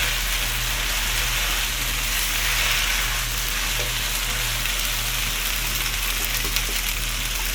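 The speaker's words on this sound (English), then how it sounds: "So in goes that boiled pasta" Boiled penne pasta tossed into a hot pan, frying with a steady, continuous sizzle and crackle close by, with no talk and a low hum running underneath.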